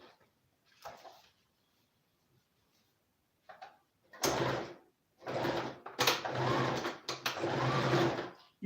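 A domestic sewing machine stitches straight seams in several short bursts, whirring runs of about a second each separated by pauses, close and clear in a quiet room.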